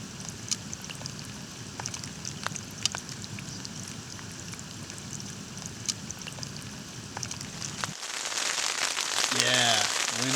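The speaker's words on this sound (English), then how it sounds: "wind and rain" Steady rain patters and crackles on a surface at a camp on the John Muir Trail, a dense close hiss with scattered drops, growing louder and wind-blown near the end.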